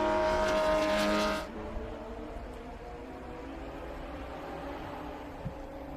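A race car leaves the pits during an endurance race at Road America, its engine loud and close for about a second before the sound drops sharply away, leaving a steady distant drone.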